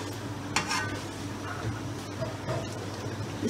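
An ingredient roasting in a pan for a mango dessert sizzles steadily, with occasional scrapes and stirring clinks of a utensil against the pan over a constant low hum.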